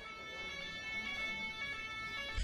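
Ambulance siren in a video game, a steady wailing tone running throughout at moderate, fairly distant loudness, no voices over it.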